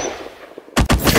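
Gunshots in a shooting video game break a quiet moment with two or three loud, sharp blasts in quick succession, close and punchy.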